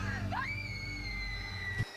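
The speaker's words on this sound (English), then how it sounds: "That was a better scream this time." A single sustained high scream from the TV show Supernatural rises sharply and holds steady for well over a second, then cuts off abruptly, over a low background rumble.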